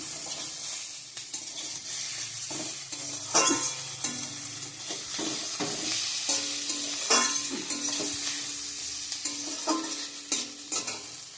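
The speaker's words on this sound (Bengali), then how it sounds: "বেগুন ভাজা করছি বন্ধুরা" Eggplant (brinjal) slices fry in a pan with a steady close sizzle, while scattered scrapes and clinks of a spatula stir them at irregular intervals.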